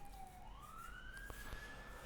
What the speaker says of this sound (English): You can probably hear a police siren as soon as I start the fucking recording.